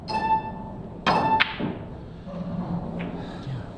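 A pool cue strikes the cue ball with a sharp click, a second knock follows quickly, then softer rolling and faint clicks trail off during a pool match.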